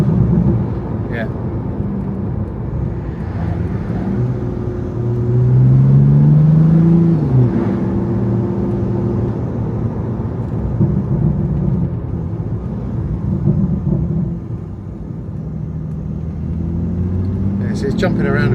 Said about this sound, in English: I am sort of accelerating up and then I'm dropping off the power, which means it's then dropping down to find another gear